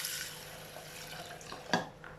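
About 300 ml of water poured into a cooking mix of quinoa and red lentils, a soft steady splash and trickle running close throughout, with one brief louder splash near the end.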